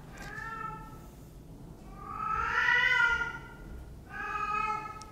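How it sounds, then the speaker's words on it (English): An old cat meows three times, drawn-out and wailing, with the middle cry longest and loudest, heard close over a faint background hum. "Nobody's torturing the cat. The cat is just like that."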